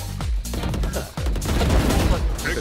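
Gunfire in the Valorant video game: close, loud rapid bursts of shots crowd together in quick succession, layered with other game sounds.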